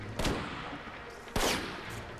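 Sniper gunfire in the video game Army of Two: two sharp shots, about a second apart, cracking loud over steady game background noise.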